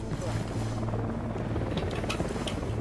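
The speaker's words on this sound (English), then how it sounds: "There is a helicopter." A helicopter in the video game Ghost Recon Wildlands gives a steady, droning rotor rumble that fills the whole stretch, with a player's voice talking over it.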